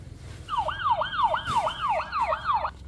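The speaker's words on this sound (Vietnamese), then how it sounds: "Xe cứu thương." A toy ambulance's electronic siren wails in a fast, repeating up-and-down sweep, about seven cycles over two seconds, close and fairly loud with faint room noise around it.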